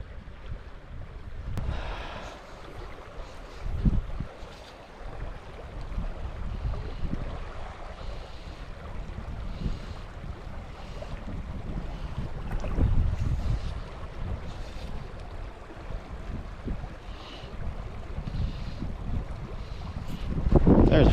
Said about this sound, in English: it gets windy